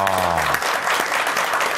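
A studio audience on a Korean morning talk show breaks into steady, dense applause, close and full, right after a voice trails off at the start.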